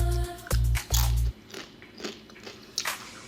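Three loud, crisp crunching bites in quick succession, followed by quieter crackly chewing, close up.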